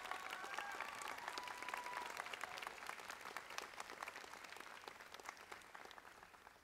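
Sustained applause from a graduation commencement audience, a dense wash of many hands clapping steadily throughout before tapering slightly toward the end.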